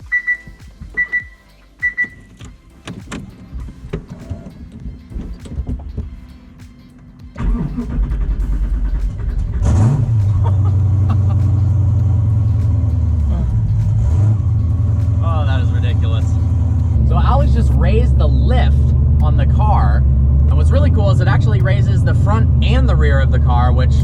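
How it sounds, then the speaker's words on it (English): A Hennessey Venom GT with a six-speed manual gearbox cold-starts indoors: after beeping chimes and a short crank, the engine catches with a loud bark and settles into a heavy, rumbling idle with throttle blips, while people talk over it. "about to witness a cold start in a Venom GT"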